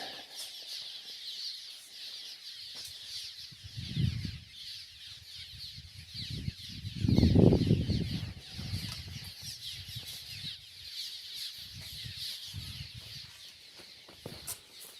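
A large bird guarding a cellar on a Kansas ranch squawks loudly in repeated bursts and flaps its wings, the loudest outburst in the middle, with no voices.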